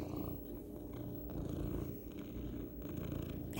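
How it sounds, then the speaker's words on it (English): A cat purrs steadily while curled up in a person's lap. The low, continuous rumble is close but soft and pulses gently with each breath throughout, with no speech. "so you'll probably hear him purring"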